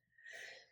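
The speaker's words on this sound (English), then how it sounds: "I think it's just my morning, my morning sneezes that happen." A single soft, breathy sneeze from a person at a morning planning session, a short hushed burst that rises and fades in under a second, close and quiet with no other sound around it.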